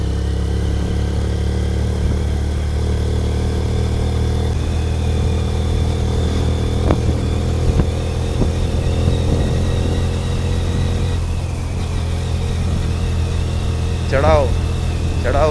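Yamaha R15 motorcycle ridden in fifth gear while engine braking: a steady, droning engine note with wind rush, continuous and close throughout, with only slight changes in pitch.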